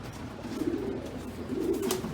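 Pigeons coo softly in a breeding loft, two low rolling coos close by over a faint background murmur.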